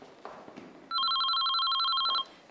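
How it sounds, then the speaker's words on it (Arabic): An electronic telephone rings in two-tone bursts, close and loud, in a quiet room with faint background movement and no talking. "اسحبي فيهاش التليفون كله، ما بدي رد على حدا"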